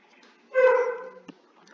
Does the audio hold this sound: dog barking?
yes